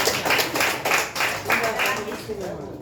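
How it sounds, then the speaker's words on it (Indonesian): Audience applause during an Indonesian talk or class session, steady clapping from a group rising and falling in several waves for about three seconds, with talk mixed in. "Baik, tepuk tangan dulu untuk"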